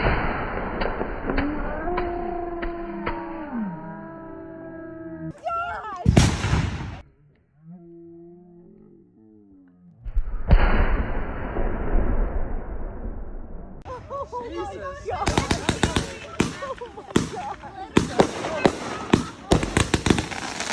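A neighborhood fireworks show malfunctions into ground explosions: rapid crackling bursts and sharp bangs with whistling rockets, a quiet pause, then renewed loud volleys, while people talk and react throughout.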